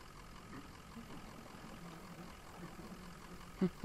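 In the Mirror Forge video game, an engine runs to power a hob with a faint, steady low idling hum. A couple of soft knocks come near the end.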